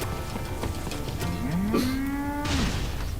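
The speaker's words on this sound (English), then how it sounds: "That is a cow." A cow in a video game lets out one long, low moo that bends in pitch, over a steady background hum and faint clicks.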